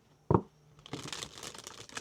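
A tarot deck being shuffled gives one sharp knock, then a run of soft papery riffling and sliding of cards close by, with no voices.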